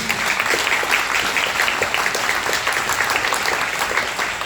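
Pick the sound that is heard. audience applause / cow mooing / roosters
audience applause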